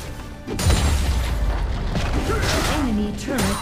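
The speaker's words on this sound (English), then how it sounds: "Enemy turret destroyed." An enemy turret crumbles in League of Legends: Wild Rift as a deep boom bursts out early, followed by layered crashing and swirling game effects, while an announcer-style voice speaks over the din.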